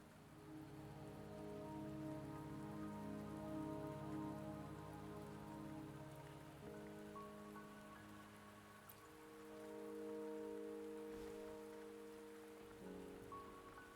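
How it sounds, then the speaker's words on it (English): Rain falls steadily in the video game Wuthering Waves, a soft continuous patter on surfaces, faint and even throughout, with sustained musical tones underneath and no talk. "Don't worry, the rain won't last much longer."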